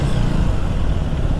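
A Kawasaki H2R motorcycle rolls to the roadside to park, a loud, close engine rumble with a low, even throb through the short stretch and no voices.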